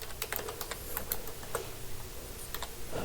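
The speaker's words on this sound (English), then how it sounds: "It's a little difficult to spell on this keyboard." Soft clicking keystrokes on a computer keyboard while scripting in Roblox Studio, a steady irregular patter of light taps heard close over faint room hiss.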